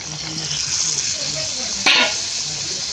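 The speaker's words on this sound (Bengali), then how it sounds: "এবার জলটা দিয়ে দিচ্ছি।" Water is poured into a pan of frying chicken biryani masala with fried potatoes. A close sizzle crackles along, then a sudden loud hiss bursts up as the water hits the hot pan and slowly settles.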